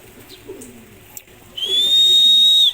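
Released racing pigeons at a San Ildefonso release, soft cooing and faint bird sounds near, then a loud sustained high whistle for about a second at the end.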